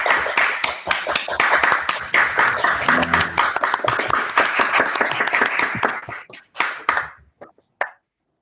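Audience applause after a talk on agricultural storage infrastructure in Argentina: a dense burst of many hands clapping that holds steady for about six seconds, then thins into a few scattered claps and dies away.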